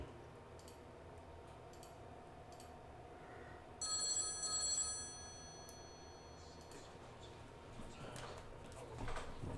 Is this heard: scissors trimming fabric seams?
no